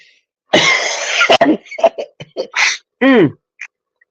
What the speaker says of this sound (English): Still got this cough.